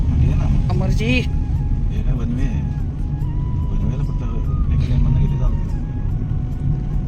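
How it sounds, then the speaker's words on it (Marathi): A car being driven slowly, its steady low engine rumble and road noise running loud and continuous throughout, with people talking inside over it. "धीरे धीरे चलाओ गाडी"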